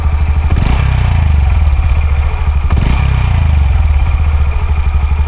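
A Honda Dax125 motorcycle runs steadily with its upswept muffler giving a throaty exhaust note while riding, and the engine revs up twice as it accelerates, close and loud with no talking.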